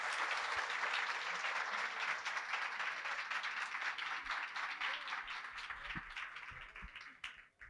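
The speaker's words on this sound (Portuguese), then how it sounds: "Uma salva de palmas para Paula." An audience applauds after a nutritionist's talk at a running event, steady sustained clapping from a crowd that fades out toward the end.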